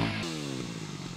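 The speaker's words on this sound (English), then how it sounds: "metal studs are put on wheels to help dirt bikes grip the ice better" Studded dirt bike riding on frozen Lake Erie, its engine droning steadily with a shifting pitch that rises then settles, close and fairly loud, with no voices over it.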